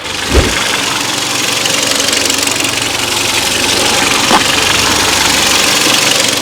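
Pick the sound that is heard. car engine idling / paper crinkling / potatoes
car engine idling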